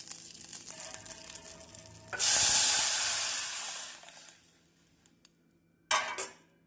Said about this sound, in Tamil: இப்பொழுது நாம் கரைத்து வைத்துள்ள தக்காளி மிக்ஸை இதில் ஊற்றி விடலாம்